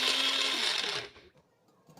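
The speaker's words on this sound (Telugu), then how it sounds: "ఒక మిక్సీ జార్లోకైనా లేదా ఒక రోట్లోకైనా ఒక 10-15 వెల్లుల్లి రెబ్బలు, అలాగే మీకు కావలసినంత కారాన్ని బట్టి కారం వేసుకొని దంచేసుకోవాలి" A mixer grinder grinds garlic cloves with red chilli powder, whirring loudly for about a second before cutting off and spinning down, followed by faint clinks and rattles.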